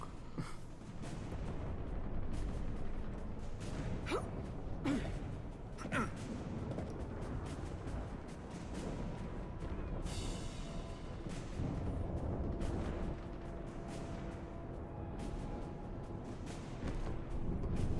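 Mass Effect 3 combat gunfire, scattered sharp shots and deep booms over a continuous rumbling battle ambience, moderately distant and steady throughout.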